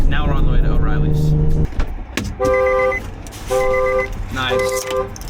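A Nissan 350Z drift car's horn gives three short chirps as it locks itself, evenly spaced, after a brief burst of someone talking.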